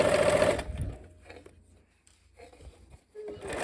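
A sewing machine stitches fabric pieces from the top side with the needle down, running loud and steady at first, then slowing to short, softer bursts and pauses before picking back up.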